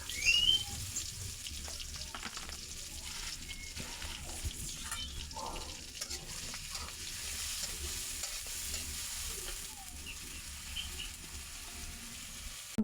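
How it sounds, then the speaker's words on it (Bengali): Spice paste and green chillies sauté in a pan for a bottle gourd, potato and stinging catfish curry, a soft, steady sizzle with faint stirring scrapes, quiet and continuous throughout. "মশলাটা অনেক সুন্দর করে কষিয়ে নিতে হবে।"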